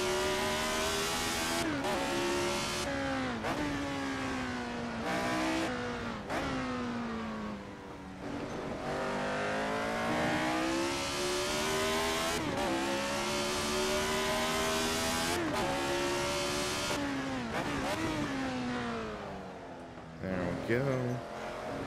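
Retro Formula One race car in a sim racing video game, its engine revving high and rising through gear changes with dips between shifts, loud and continuous, with a voice talking over it.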